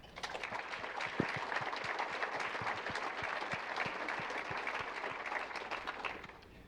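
Steady audience applause at a City of Marshall State of the City address, honoring two people as they stand, one heading into retirement; sustained, moderately distant clapping that fills the room evenly before tapering off at the end.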